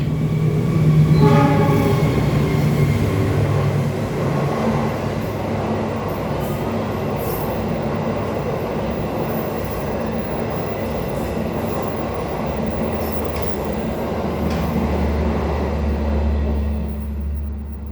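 A train rumbles past at close range, a loud steady roar of rolling wagons with a horn-like tonal blast early on and a fading rumble toward the end.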